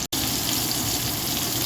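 Food pan frying in a generous amount of vegetable oil, a steady, close, hissing sizzle that runs unbroken after a brief cut near the start.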